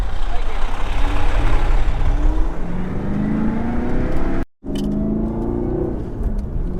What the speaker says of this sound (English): sitting here doing highway speeds on these bumpy roads, the car actually feels really good